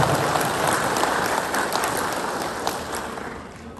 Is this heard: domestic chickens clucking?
no